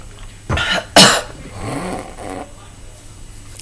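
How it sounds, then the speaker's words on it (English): A woman with allergies coughs close to the microphone, two sharp bursts followed by a raspy throat-clearing rumble, then quiet room tone. "So I'm about to cough again."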